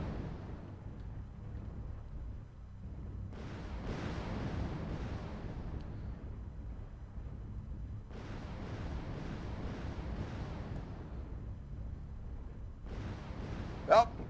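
LRM missile salvos from a mech in Mechwarrior Online rumble out in long, low bursts, three waves of dull rushing booms separated by quieter gaps, with a short sharp crack at the very end.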